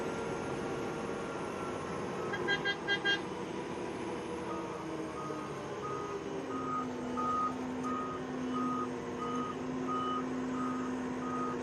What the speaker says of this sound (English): Truck is full, so I'm going to back up.